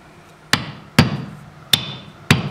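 A caulking iron hammered into the plank seam of a wooden boat, four sharp, ringing mallet strikes spaced about half a second apart, close and clear with no talking.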